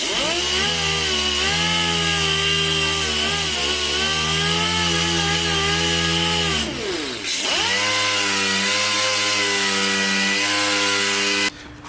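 A DA sander fitted with 80 grit scuffing the body of a Dodge Charger being prepared for respray, a loud sustained whine whose pitch shifts with load, briefly cutting out and restarting, then stopping at the end.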